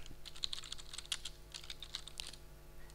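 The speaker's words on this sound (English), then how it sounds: "I'm typing at the very beginning." Fingers type on a computer keyboard in a quiet room, a quick irregular run of close clicking keystrokes that thins out toward the end, with no talking.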